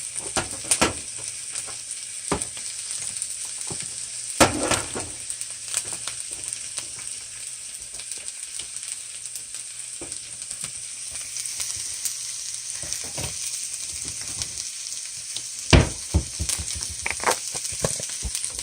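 Dragon kale, seasoned with pink Himalayan salt, garlic powder and onion powder, fries in a pan, a steady close sizzle broken by scattered scraping stirs and clattering utensil hits, with a cluster of quick clanks near the end.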